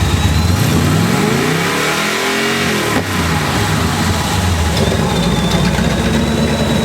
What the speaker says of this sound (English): This stainless is the same straight-through technology, but it's 2 layers of stainless with an air gap that makes it a little more mellow.